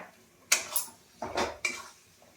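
Chicken stirred and sautéed in a spiced pan gives three or four short, close clanks and scrapes of a metal spoon against the pan, separated by quiet gaps.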